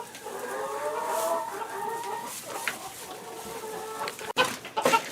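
Chickens cluck and murmur close by in a winter farm setting, a steady run of overlapping clucks with a few sharper calls and some handling noise near the end.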